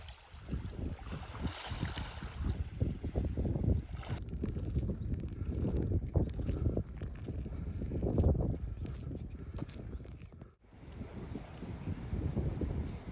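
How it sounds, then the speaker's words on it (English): Gusty wind buffets the microphone over lapping, splashing water on a fjord in Orkland, Norway, with uneven rumbling bursts and a short lull near the end. "The sound here is mostly water, wind, and the occasional boat engine somewhere out on the fjord."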